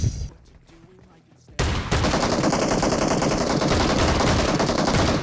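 Rapid automatic gunfire from a shooting video game, a dense continuous burst at close range that fills most of the clip after a brief quieter start; a voice is faintly present.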